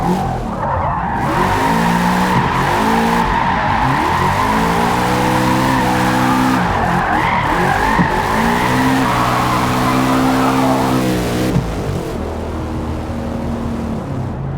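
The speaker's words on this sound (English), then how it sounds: "It's a little bit easier to drift." Car in the Forza Motorsport racing game drifting with a sustained loud tire squeal over a revving engine that rises and falls through repeated gear changes, continuous and close for the whole stretch.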